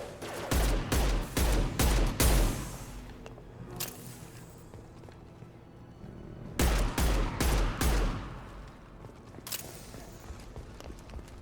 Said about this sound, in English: Use your Spellbounder super weapon.